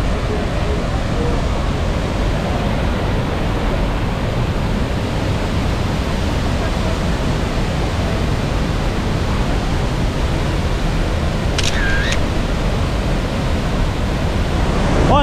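Constant, heavy roar of water from Iguaçu Falls, a broad steady wash of noise filling the whole clip at close range, with no speech over it.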